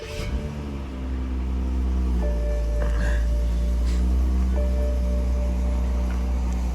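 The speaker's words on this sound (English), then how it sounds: "I'm gonna start the car and drive it for a while" A BMW fitted with a retrofitted paddle-shift steering wheel starts and drives, a steady low engine rumble holding throughout with tonal whine lines rising and shifting above it, close and continuous.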